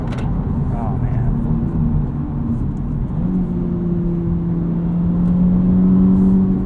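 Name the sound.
2023 Honda Civic Type R driving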